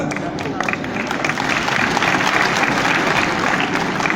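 Applause from a large crowd during a Hindi speech, dense sustained clapping that fills the whole stretch at steady volume with faint crowd murmur beneath.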